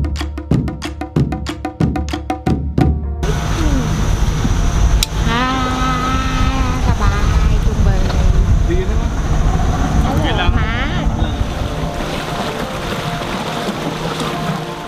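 A tour boat runs through the mangrove forest of Langkawi, Malaysia, its engine droning steadily throughout, with people talking over the motor and water noise.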